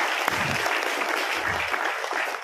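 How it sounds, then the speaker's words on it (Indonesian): An audience applauds the speaker's wife, seated at the back, during a success-story talk in Lamongan. The clapping is dense, steady and loud across the whole stretch, with a few brief voices mixed in. "Tepuk tangan untuk istri saya di belakang"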